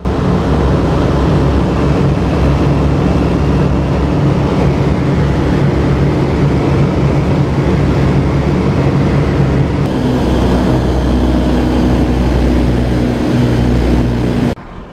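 A loud, steady, continuous drone of a B-17 bomber's four 1,200-horsepower Wright Cyclone radial engines roaring without pause, deep and heavy, filling the whole stretch before cutting off abruptly at the end.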